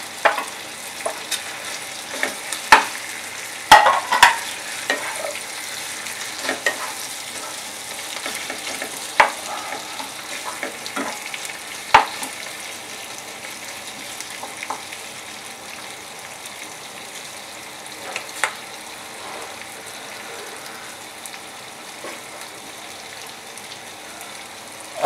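Capsicum cooking in a pan for chilli paneer, a long, soft, even crackling sizzle with scattered sharp pops and occasional light clicks, no voices.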